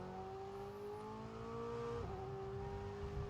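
Ferrari Formula 1 car engine in the F1 22 racing game, a steady high-pitched whine that holds a sustained tone, dips briefly around a gear shift and then carries on evenly, heard alone.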